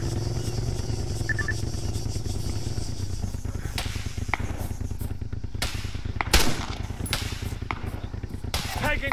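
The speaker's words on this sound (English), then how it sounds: "Oh, we're taking fire." Gunfire in the Arma 3 video game, scattered sharp shots cracking over a steady engine-like rumble, fairly faint and mixed into the game's background noise.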